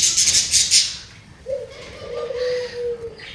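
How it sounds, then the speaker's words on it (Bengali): Young dove chicks in a cage give soft, drawn-out calls, with a steady low tone in the middle and higher chirps from nearby birds over faint background noise. "এখানে আছে কিছু ঘুঘুর বাচ্চা, এগুলাও বড় হয়ে গেছে মোটামুটি।"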